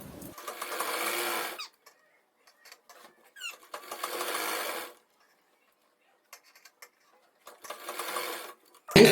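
Sewing machine stitching a Nayra cut kurti during alteration, running in three separate bursts of rapid, steady whirring stitches with quiet pauses between, close and clear without talk.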